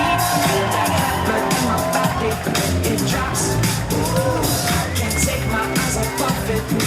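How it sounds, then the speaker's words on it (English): Guests at a wedding reception clap, cheer and yell for the groom's parents as they are introduced, a loud, dense crowd roar that runs unbroken throughout with whoops and voices mixed in. "A big round of applause for Beth and Ed Austin"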